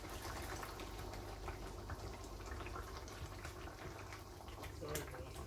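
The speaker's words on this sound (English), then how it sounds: "We're going to let that simmer and reduce for a couple of minutes." Sauce for Portuguese pork chops simmers in a pan as a low, steady bubbling hiss that stays constant and faint throughout.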